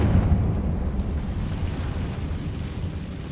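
A Confringo fire spell in Hogwarts Legacy detonates as a deep, rumbling blast that rolls on and slowly fades, loud and heavy in the low end.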